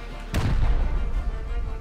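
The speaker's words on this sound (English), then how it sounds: "I'm gonna rocket the compound out" One rocket launcher shot aimed at a compound in the game Rust, a sudden close blast followed by a rumbling tail that fades over a second or so.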